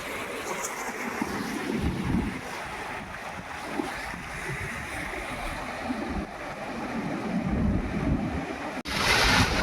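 Huge monsoon sea waves crash and surge on the shore at Harihareshwar during high tide, a continuous roar of surf with gusty wind buffeting the microphone, loud and close.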